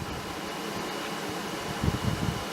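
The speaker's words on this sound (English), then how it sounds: "Hopefully you can hear us and the air conditioner isn't too loud" An air conditioner runs in a warm room as a steady, loud broadband whoosh that never lets up, with a few faint low thumps near the end.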